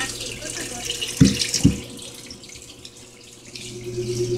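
Water sprays and splashes out of a spinning drum during a spin cycle, a hissing rush with a couple of sharp thuds early on, then a steadier splashing under a faint hum.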